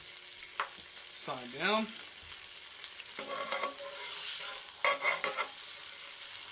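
Thin bologna sausage slices sizzling and frying in a pan for a bologna sausage egg and cheese bagel, a steady crackle with stirring and scraping, and a brief spoken line over it.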